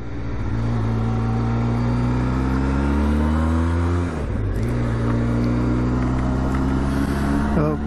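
A motorcycle ridden on the road gives a steady, loud engine drone with a brief dip and shift in pitch partway through, heard from up close.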